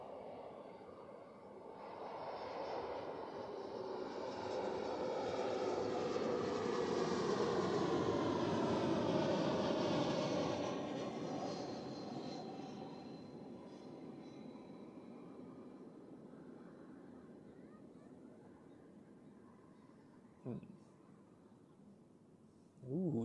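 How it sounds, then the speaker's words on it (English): A Helvetic Embraer airliner arriving from Florence lands at Zurich Airport, its broad engine roar swelling to a loud peak, then fading into a distant rumble, with a couple of brief thumps near the end. "here we have the Helvetic Embraer from Florence"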